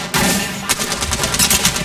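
Rapid bursts of automatic gunfire in Apex Legends, loud and close, firing in quick repeated shots.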